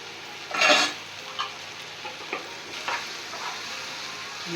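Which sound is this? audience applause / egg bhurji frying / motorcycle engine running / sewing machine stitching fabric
egg bhurji frying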